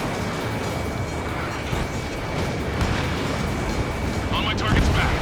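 A missile launch in Ace Combat 7 amid a steady roar of jet engine and combat noise, with a heavier whooshing burst near the end and radio voices talking over it.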